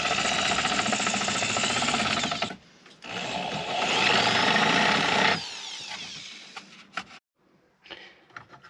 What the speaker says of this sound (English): Now that I have the hole drilled